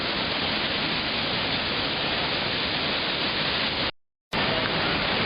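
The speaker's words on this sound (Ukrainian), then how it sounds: "ми зараз біля водоспаду" Steady, dense rushing roar of the Düden waterfall near the lake in Turkey, heard close and continuous with no voices, broken by one brief dropout of total silence before the rush resumes.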